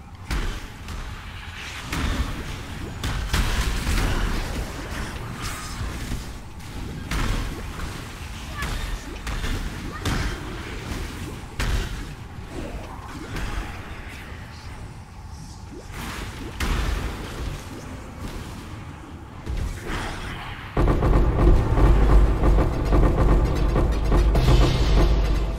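Explosions in the action game Path of Exile, from an Occultist character farming Simulacrum, burst as repeated whooshes and thuds in a dense, loud stream, swelling into a heavier rumbling blast near the end while a voice talks over it.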